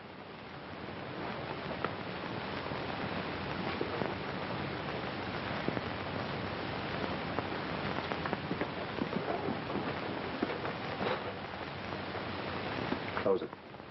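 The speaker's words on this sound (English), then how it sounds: "The rain ought to let up soon." Steady rain falls continuously in a noir film scene, a dense, even hiss of drops on surfaces that holds at a moderate level from start to finish.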